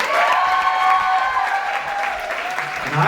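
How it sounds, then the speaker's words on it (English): Audience applauding at a live Model Con event, a continuous crowd clapping with a few faint cheers mixed in, moderately loud and steady throughout. "So one more time, a round of applause for yourselves."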